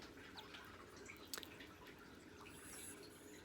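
Water trickling and dripping steadily from hand-washed laundry as it drains, a soft continuous patter close by with no talking.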